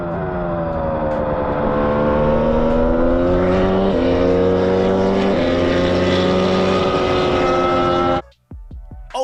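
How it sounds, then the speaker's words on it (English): A Formula 1 car engine screams loud and steady, pitch climbing and shifting through gears, then cuts off abruptly near the end. "Formula 1's noise, even though it's been decreased over the years, is still lovely, luscious, lovely sound"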